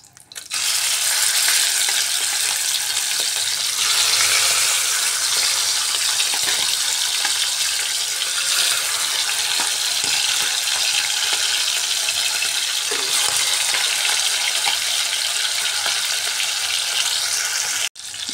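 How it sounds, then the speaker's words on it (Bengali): Chicken pieces fry in hot oil with a loud, steady, dense sizzle and crackle that runs unbroken and close up for the whole stretch, then cuts off abruptly right at the end. "এবার বাকিগুলোও দিয়ে আমি ওই তেলের মধ্যেই ফ্রাই করে নিচ্ছি।"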